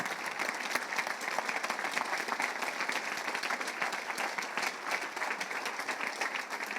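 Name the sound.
congregation applauding in church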